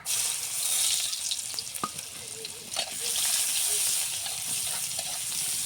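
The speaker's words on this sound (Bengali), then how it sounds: "পেঁয়াজ ভেজে দেব।" Onions frying in oil left over from frying rohu fish in a karahi, a steady loud sizzle with occasional stirring scrapes and spatter pops, close up with no talk.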